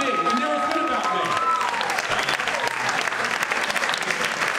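Sustained applause from a crowd at an election wrap-up event, dense clapping throughout, with a few voices and a brief tonal whine fading early on.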